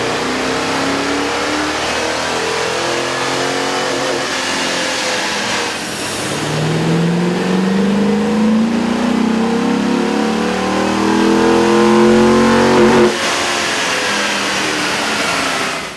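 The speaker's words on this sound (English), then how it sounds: "With the air intake installed, we ran the vehicle on the dyno to test the sound comparison versus the stock intake." Chevy 1500 5.0-liter V8 fitted with an aftermarket air intake, revving on a dyno: a sustained engine drone that climbs steadily in pitch through a long pull, then drops off sharply near the end.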